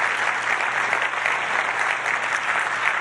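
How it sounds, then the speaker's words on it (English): Steady, dense applause from a panel-discussion audience at a climate and land-use event fills the whole stretch evenly and loudly, with no talk over it. "A big round of applause,"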